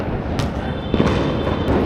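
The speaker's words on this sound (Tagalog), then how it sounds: "Mas marami pa putok doon." New Year's Eve fireworks exploding nearby, a dense continuous crackle with several sharper pops rising over the din, loud and close, with no clear talking.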